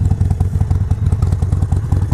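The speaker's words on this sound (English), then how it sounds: "Exhaust sounds really good." Harley-Davidson Sportster 72 XL1200V cruiser running from its factory exhaust, a loud, steady, throbbing lumpy idle with rhythmic low pulses, recorded close by.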